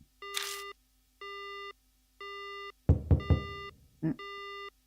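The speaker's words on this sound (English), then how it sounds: "the phone goes dead." In the video game Death Mark, a dead phone line gives a repeated busy-signal tone in evenly spaced beeps, with a few louder thumps and clatters breaking in partway through.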